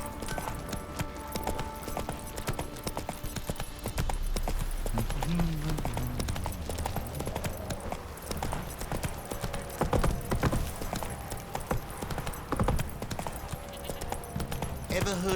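Horse hooves clip-clop steadily while riding in The Witcher 3, a continuous rhythmic trot under music and occasional talk.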